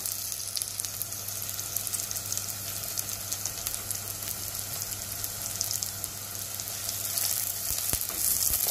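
Onions sauté in a pan for a Jaffna-style Sri Lankan beetroot curry, giving a continuous close sizzle and crackle that holds steady and swells slightly toward the end.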